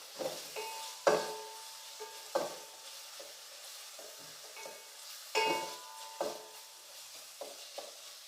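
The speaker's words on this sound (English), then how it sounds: "Add green chili 1, mix it well so it doesn't get stuck to the bottom." Green chili is stirred in a pan for Goan sardine curry: a spoon scrapes and clinks against the pan in several quick, irregular strokes, with a soft sizzle underneath, close and fairly quiet.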